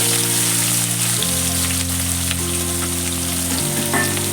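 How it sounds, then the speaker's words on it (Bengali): Finely chopped small onions fry in hot oil for a red chicken curry, giving a loud, dense, continuous sizzle close up that holds steady throughout with no voices. "এবারে আমি পেঁয়াজ দিয়ে দেবো।"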